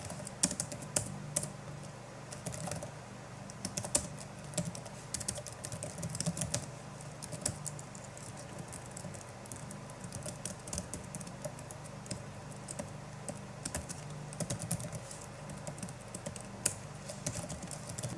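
Code is typed on a computer keyboard in fast, uneven bursts of close, crisp key clicks, with brief pauses between runs and no voices.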